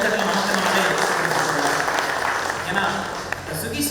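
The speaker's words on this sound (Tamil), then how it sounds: "மிகப்பெரிய கைத்தட்டல் நமக்கு நம்மளே" Applause from a gathered crowd at a Tamil-language event, steady broadband clapping that fills the whole span with only a slight dip near the end.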